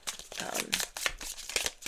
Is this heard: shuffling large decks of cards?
yes